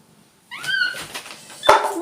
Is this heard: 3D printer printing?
no